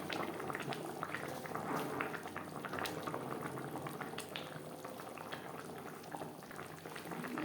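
Bhangar fish curry bubbling in its gravy, a continuous close boiling with irregular soft pops and blips, quiet and steady with no talk.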